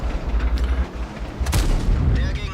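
Gun firing from a Skorpion G German tier 8 premium tank destroyer in World of Tanks, a single heavy boom with a sharp crack, set in rumbling engine and battle noise.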